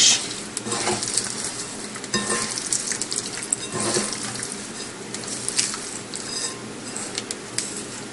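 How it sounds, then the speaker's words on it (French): Chicken livers for foie gras stirred in a bowl, wet squelching and soft scraping strokes at close range, with occasional light clinks of utensil on the bowl and no talk. "Vous remuez vos foies."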